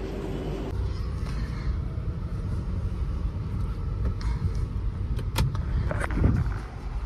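A car drives along, heard from inside the cabin as a steady low engine and road rumble with a few faint clicks and knocks.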